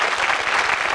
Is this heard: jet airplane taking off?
no